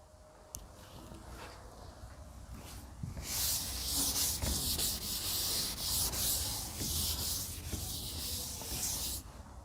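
Hand rubbing across a surface during a physics demonstration on electric fields, a steady broad scraping that starts faint and then grows louder and continuous for several seconds, with no talk.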